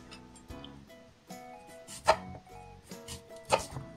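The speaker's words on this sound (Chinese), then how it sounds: "切成薄片" Peeled sweet potato sliced thin with a knife on a board, about seven crisp cuts in an uneven rhythm, two of them sharper and louder, heard up close with no talking.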